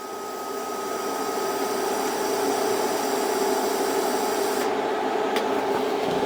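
A TIG welding torch runs with a steady, even hiss and buzz that holds for several seconds, then cuts off abruptly near the end, leaving a quieter background.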